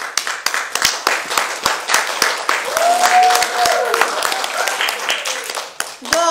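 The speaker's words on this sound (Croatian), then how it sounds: "Aplauz!" Audience applause at a live show, many hands clapping in a loud, fast, crackling burst close by, with a cheering voice rising over the middle and a brief voice near the end.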